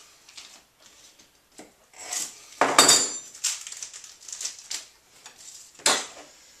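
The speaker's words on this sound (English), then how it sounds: "I'm going to cut the tips off the vanilla bean, the little stems. Chop these into bits here." A knife cuts and chops a vanilla bean on a cutting board, with scattered scraping rubs and a few sharper crisp cuts, close and otherwise quiet.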